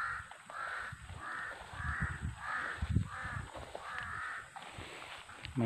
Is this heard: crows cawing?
yes